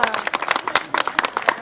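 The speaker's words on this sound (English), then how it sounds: "Pray give yourselves a grand round of applause for bringing us story tonight." Audience at a King Arthur storytelling performance claps loudly and quickly at the close, a brief, dense patter of many hands from a nearby crowd.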